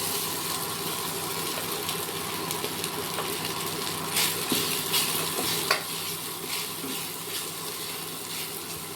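Sabudana khichdi with potato frying in a pan, stirred with a spoon: a steady soft sizzle under scraping and clinking strokes, close and moderately quiet.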